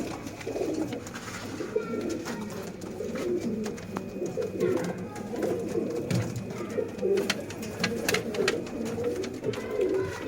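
Sialkoti chuhay kabootar pigeons coo steadily at close range, with overlapping low throaty calls throughout and occasional faint rustling in the background.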